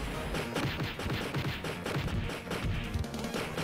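Rapid bursts of gunfire from ninja guns in the Game Boy Advance game Power Rangers Ninja Storm, repeating steadily and loud throughout with no pauses.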